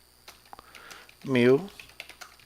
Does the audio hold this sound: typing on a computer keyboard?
yes